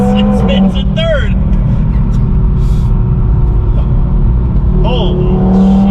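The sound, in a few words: boosted 2022 Audi TT RS accelerating hard, wheels spinning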